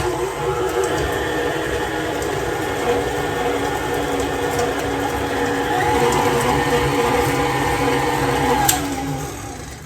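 An electric mixer whirs steadily for about ten seconds as two eggs are beaten into toffee chocolate chip cookie dough in a bowl, a continuous mid-level motor drone with a slight swell in pitch and loudness near the end.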